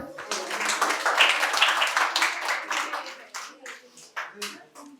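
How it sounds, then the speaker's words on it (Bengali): Audience applause during a prize handover at a medical college quiz competition, dense clapping that builds then thins into scattered claps toward the end, with voices faintly beneath. "জোরে হাততালি হয়ে যাবে একবার।"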